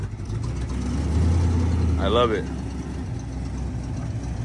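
A Foxbody Mustang fitted with a 1JZ turbo engine starts cold and settles into a steady, loud idle, with a brief rising rev partway through. Someone speaks over the engine.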